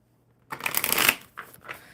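A deck of playing cards is given one quick riffle shuffle, a crisp burst of rapid flicking that swells and then settles into a couple of softer taps.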